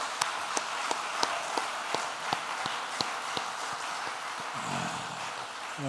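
A church congregation applauds during a Sunday worship service, with sharp claps rising above a steady bed of clapping that fades toward the end.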